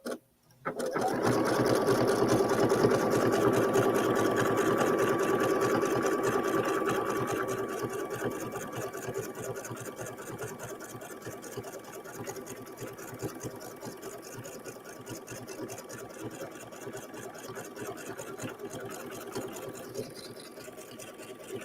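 A sewing machine stitches pieces of a denim table topper, a steady close mechanical whir and rapid needle rhythm that runs continuously, louder at first and then settling a little quieter.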